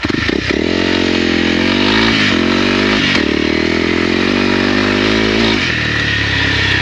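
A 2022 Honda CRF300L single-cylinder motorcycle engine runs loud and close, a throbbing steady drone with a couple of brief revs and dips in pitch.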